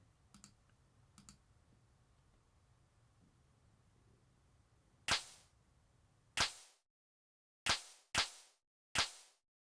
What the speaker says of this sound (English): And another clap snare.